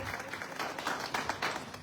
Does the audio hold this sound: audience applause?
yes